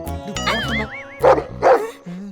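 A dog barks on a night out in a Tamil short film: two loud, close barks stand out against a warbling, tonal background, followed by a short lower tone.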